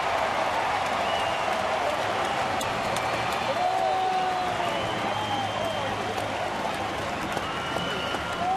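Baseball crowd cheering at Kauffman Stadium after a tying triple, a sustained, distant roar of applause and cheering with some shouts and whistles, steady throughout, with faint talk underneath.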